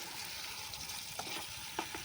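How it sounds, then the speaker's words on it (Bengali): Potatoes frying with spices in oil in a pan over a low-to-medium gas flame, a soft steady sizzle with a couple of faint stirring scrapes, no voices. "আলুর সঙ্গে মশলা খুব ভালো করে কষিয়ে নিয়েছি"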